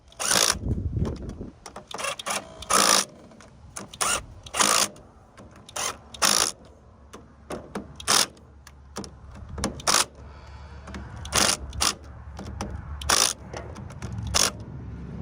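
An impact wrench works the clutch cover bolts on a Suzuki LTR450 quad, firing off short, sharp rattling bursts in an uneven series against a quiet garage background.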